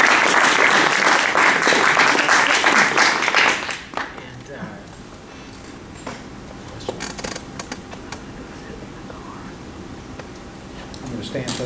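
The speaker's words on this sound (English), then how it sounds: "I think we all owe Mark our gratitude and a round of applause" An audience gives Mark Fallon a round of applause, a loud dense wash of clapping that lasts about four seconds and then drops away to scattered claps and room murmur.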